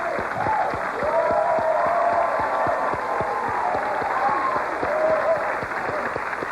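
A 1983 Tic Tac Dough game show studio audience claps steadily in dense rhythmic applause throughout, with someone talking over it.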